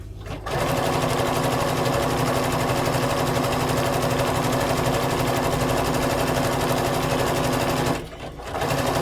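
A sewing machine stitches applique fabric in a loud, continuous, fast mechanical whir that starts abruptly, runs steadily for about seven seconds, then stops briefly before restarting.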